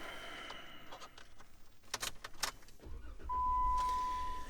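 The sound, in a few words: 2015 Jeep Wrangler Unlimited Sahara engine starting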